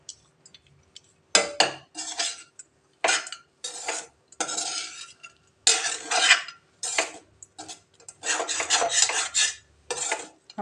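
Coconut rice with cashews is stirred in a metal pan, giving repeated bursts of scraping and clinking strokes with short pauses between them, close and fairly quiet.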